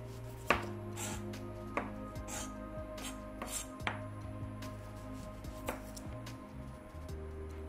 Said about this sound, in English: And then we're just gonna slice our onion.